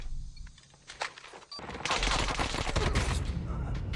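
Cordite gun firing in Call of Duty Mobile, a brief quiet stretch giving way at about two seconds to sustained, dense automatic fire that stays loud and close to the end, with a little talk faintly underneath.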